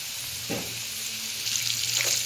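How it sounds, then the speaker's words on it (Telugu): Ingredients for Andhra-style uggani frying in hot oil on high heat, giving a steady, close hiss of sizzling with a few soft stirring scrapes and no talk. "ఇది మొత్తం ఫ్రై అవ్వాలి మంచిగా గోల్డ్ కలర్ రావాలి ఫ్రై అవుతున్నాయి హైలో పెట్టాలి"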